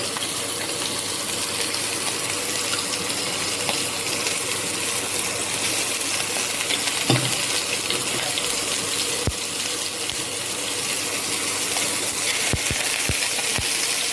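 Prawns sear in a little hot oil at 240 degrees with a constant close sizzle, and a few sharp pops and crackles mark pieces being added one by one.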